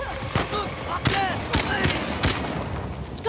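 Gunfire in the video game Uncharted: The Lost Legacy, with several sharp shots cracking out at irregular intervals over a busy, loud combat soundscape.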